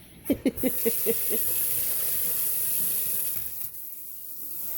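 Water from a newly installed kitchen faucet runs in a steady, even hiss after a few brief knocks at the start, close and moderately quiet.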